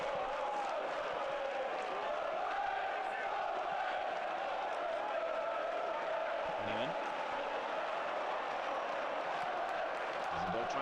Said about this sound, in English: it is those Sunderland fans you can hear quieting the Millwall crowd down